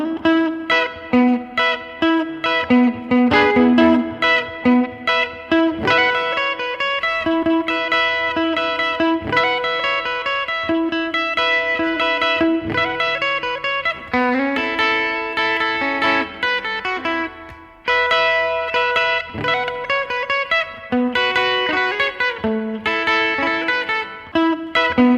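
Electric surf guitar plays the verse of a song, loud and continuous with heavy reverb and a distorted, effected tone, driving rhythmic picking and bright chord stabs filling the whole passage, with no voices.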